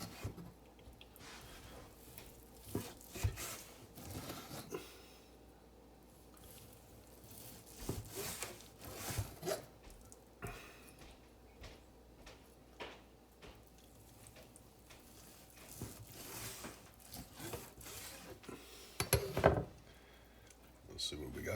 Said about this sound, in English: Let's cut it. Get some slices out of this.